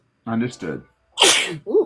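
A person speaks briefly, then lets out a single loud, close sneeze with a sharp burst, followed by a short vocal exclamation.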